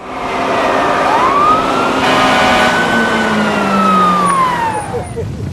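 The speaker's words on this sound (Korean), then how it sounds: "화재 사이렌이 울리자 소방대는 재빨리 출동 준비를 했다." A fire engine siren wails in long rising and falling sweeps, loud and close, at the start of a fire response in Texas, with traffic noise underneath.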